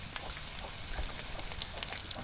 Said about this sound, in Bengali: এখন তেজপাতা দিয়ে দিই